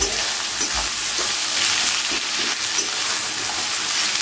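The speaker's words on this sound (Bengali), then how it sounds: "পেঁয়াজটাকে খুব ভালো করে ভেজে নিতে হবে, ব্রাউন করে।" Onions fry in a pan until brown for chicken darbari, a steady close sizzle with occasional stirring scrapes and no talk.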